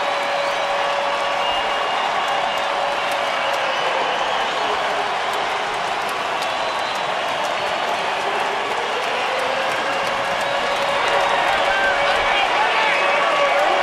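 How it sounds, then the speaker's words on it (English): A 1991 A's–Orioles ballpark crowd roars steadily after a three-run homer, a dense, sustained wall of cheering and applause that never lets up, with a broadcaster's voice talking over it. "everybody's watching it fly out of the park. The crowd is celebrating."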